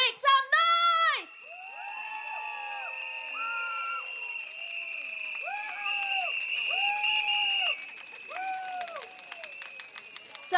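Rally crowd at a People's Action Party event at Beacon Primary School, cheering with clappers, cheering sticks and whistles: a loud burst of shouts and rattling, then sustained whistle tones and rising-falling cheers over steady crowd noise.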